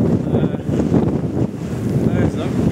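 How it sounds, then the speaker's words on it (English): Strong storm wind from an approaching gust front buffets the microphone in continuous loud, rumbling gusts that rise and fall throughout. "There's that gust front coming up."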